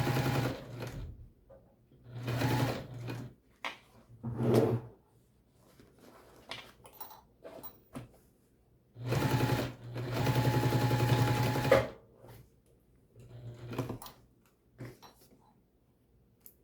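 A sewing machine stitches a tote bag seam at a short stitch length, running in several separate bursts of a few seconds each with quiet pauses between.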